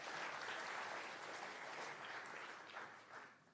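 Audience at a startup accelerator pitch night applauding, a dense, even patter of clapping that holds steady and then begins to thin and fade toward the end.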